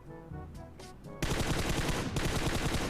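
Gunfire in the PUBG Mobile video game, a rapid automatic burst that starts abruptly after a quieter opening and continues loud and close, briefly pausing before resuming.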